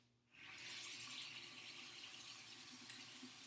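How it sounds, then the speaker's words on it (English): Room-temperature water runs from a tap into a sink during handwashing with a paper towel, a steady hissing rush that switches on suddenly and flows evenly at close range. "we're going to turn on the water at room temperature with the paper towel."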